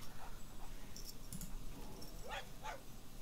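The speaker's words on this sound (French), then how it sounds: "Pourquoi il aboie? Un renard n'aboie pas." A fox creature in a digital card game gives a few faint, brief yipping barks in quick succession near the end, heard quietly over a low background.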